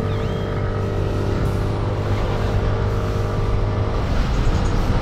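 Kymco Dink S 150 scooter engine idling steadily after an oil change, a close, continuous even hum with no talk over it.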